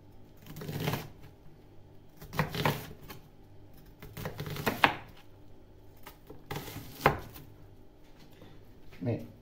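A knife chopping onion on a board in repeated bursts of quick, close thuds, with pauses between the bursts.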